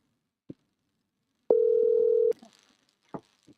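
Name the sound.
telephone dialing and dial tone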